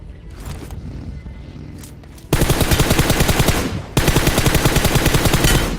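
Battle royale video game gunfire: after a quieter stretch with faint movement sounds, two long, loud bursts of rapid automatic fire rattle out, separated by a brief pause.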